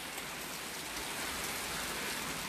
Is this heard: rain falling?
yes